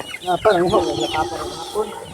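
Chickens cluck and squawk close by on a Filipino farm, several overlapping clucks in quick bursts, with someone talking faintly in the background.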